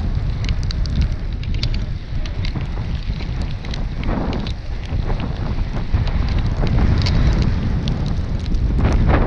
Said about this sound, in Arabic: ريح.